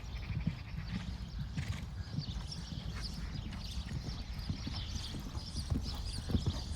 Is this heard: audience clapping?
no